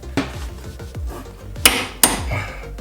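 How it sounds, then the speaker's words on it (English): A hammer being wedged into the steering linkage of a Jeep Wrangler JL, a series of light metallic taps followed by two sharp, loud clanks of steel on steel near the end, close and without talk. "I'll wedge this hammer up in here."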